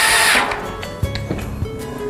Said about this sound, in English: Now we will continue with screwing the rails all the way around until we've filled all the holes completely.